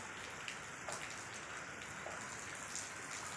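Very heavy monsoon-style downpour at night in Varanasi, a dense, steady hiss of rain with scattered nearby drips and splashes, heard faintly at a distance with no talking.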